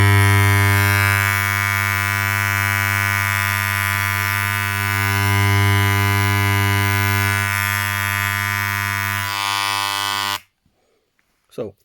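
After a clockwise screw adjustment, Wahl electric hair clippers run with a loud, harsh, steady buzz close by, rising slightly midway before switching off abruptly near the end, followed by near silence and a faint click.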